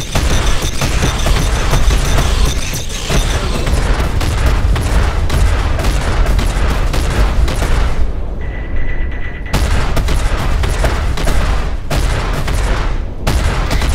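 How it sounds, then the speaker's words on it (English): Fixed ship-mounted guns in the space game Star Citizen firing in loud, rapid bursts of repeated blasts and booms, broken by a brief pause before the barrage resumes. "And this is fixed guns, so I have to actually aim the ship to hit them."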